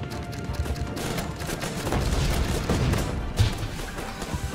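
Rapid bursts of gunfire and small explosions from the game Guns Up, a dense, continuous crackle of shots with occasional louder thumps, mid-level and steady throughout.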